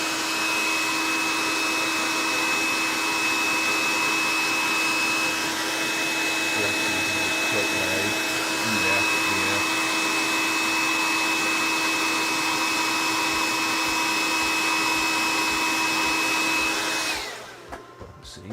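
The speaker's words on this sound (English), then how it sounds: "And Sweeney, does the compressor have a tank?" An air compressor with a tank, used for painting miniature figures, hums steadily and loudly throughout with a constant drone and a high whine, then cuts off abruptly near the end.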